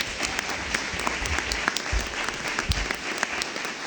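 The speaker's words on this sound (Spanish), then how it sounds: "Carmen y la China, para las cuales pido un fuerte aplauso" An audience at a talk gives steady, lively applause, a dense patter of many hands clapping throughout with no voices.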